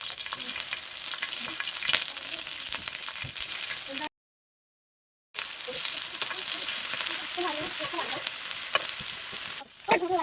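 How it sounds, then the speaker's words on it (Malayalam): Onions and tomatoes sizzle and fry in hot oil in a pan for a chicken burger, a steady close crackle broken by a brief full silence partway through, with occasional stirring scrapes. "നമ്മൾ ഇതിലോട്ട് എണ്ണ വെച്ചിട്ടിട്ടുണ്ട് നമുക്ക് ഇതിലോട്ട് ഉള്ളിയും തക്കാളിയും ഒന്ന് വാട്ടിയെടുക്കാം"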